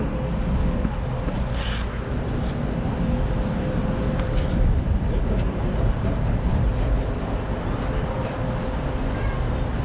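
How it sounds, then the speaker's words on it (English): Steady road traffic on the Bronx Parkway, a continuous low rumble and wash of passing vehicles heard from a distance while riding the zoo monorail, with a faint tonal hum running underneath. "the noise you hear coming from behind us right now is just traffic on the Bronx Parkway"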